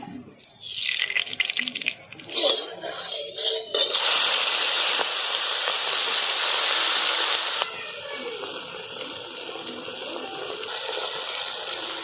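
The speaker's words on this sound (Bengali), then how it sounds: "কড়াই গরম হয়ে গেছে, এবার কড়াইতে সর্ষের তেল দিয়ে দেবো।" Mustard oil hitting a hot wok for a Bengali prawn malai curry, bursting into a loud, dense hiss that holds steady for several seconds before settling to a quieter sizzle, after some earlier clattering.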